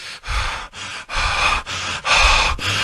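A voice imitates a person panting, giving a series of about six heavy, rhythmic breaths close to the microphone with short gaps between them.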